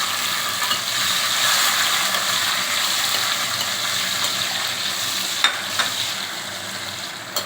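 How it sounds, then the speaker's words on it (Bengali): Karamcha fruit sizzles and fries steadily in hot spiced oil, a continuous close crackle with a few sharper pops near the end and no voices. "করমচাগুলো আস্তে আস্তে দিয়ে দিলাম"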